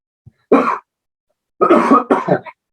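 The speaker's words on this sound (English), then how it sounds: "And there are people who need to cough." A few sharp, loud coughs close by: one short burst, a pause, then two more in quick succession, with no talking.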